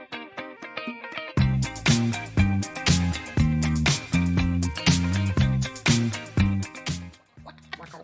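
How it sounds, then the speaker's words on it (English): Disco-style chicken scratch rhythm guitar plays a choppy, muted strumming pattern over a steady bass line, with fast percussive scratches in a tight groove, loud and up front. "It's called chicken scratch rhythm guitar"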